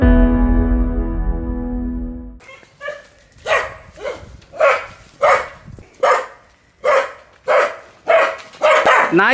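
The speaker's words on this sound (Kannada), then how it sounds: "ನಾಯಿಯನ್ನು ಸ್ವಲ್ಪ ದೂರ ಕಟ್ಟಿ." A dog at a rural home barks about ten times in a steady, evenly spaced series, loud and close, after a few seconds of a strong tonal hum with no talk.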